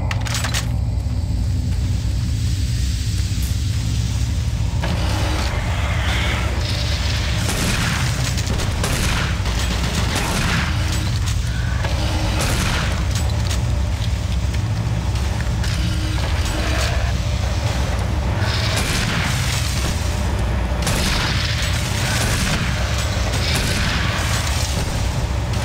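Shotgun blasts in the first-person shooter Doom 3 BFG Edition, loud booming shots with mechanical reload clicks, repeating irregularly through a constant din of game noise and combat.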